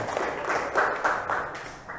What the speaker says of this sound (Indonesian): Ya, terima kasih, tepuk tangan.